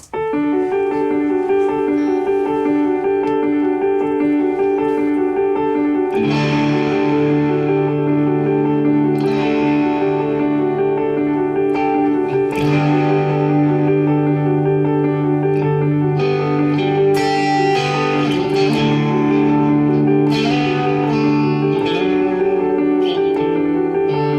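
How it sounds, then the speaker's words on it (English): Big open chords strummed on a distorted electric guitar, drenched in reverb and echo, ringing out steadily and loud for the whole stretch. "just a dirty kind of reverb-soaked guitar, strum like nice big open chords"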